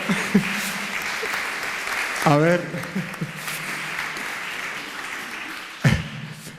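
An audience applauds after a poetry reading of Manuel Machado at an art and poetry talk. The clapping is a steady wash running under someone speaking Spanish.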